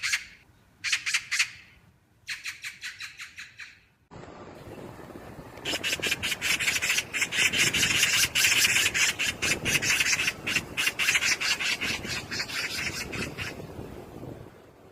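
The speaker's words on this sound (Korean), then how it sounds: "그렇습니다. 까치 소리입니다." Harsh, rapid rasping chatter of a magpie played from a recording: short bursts separated by pauses, then a long run of repeated scratchy calls close and clear, with no talk.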